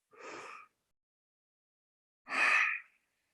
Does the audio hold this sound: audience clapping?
no